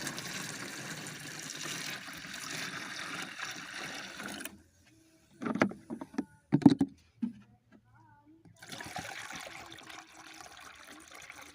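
Water splashes and gurgles as it is poured into a container to mix waste decomposer on a farm, in short bursts between stretches of talking.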